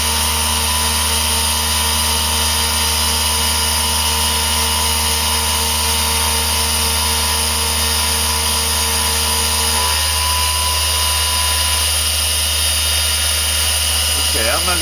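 A machine spindle runs through a machining cut with a loud, steady whine and hum, its tone shifting partway through, and the work noise continues throughout.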